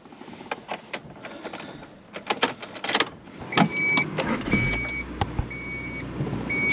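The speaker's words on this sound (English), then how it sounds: "She cranks right up." A 1993 Honda Accord Coupe cold-starts up close: a few sharp clicks and thumps, then the engine catches and settles into a steady low idle while a repeating electronic chime beeps over it.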